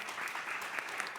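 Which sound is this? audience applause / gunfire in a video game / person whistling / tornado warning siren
audience applause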